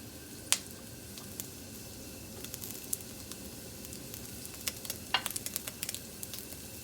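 Carrots and celery sizzle steadily in hot oil for Chinese fried rice, a dense close hiss broken by sharp pops and crackles that thicken toward the end.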